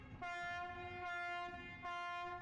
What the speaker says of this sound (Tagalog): Napakalakas sa busina mo.